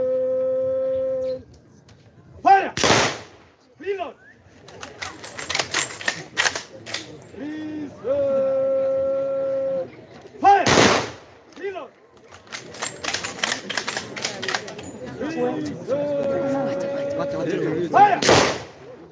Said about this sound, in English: Three rounds of volley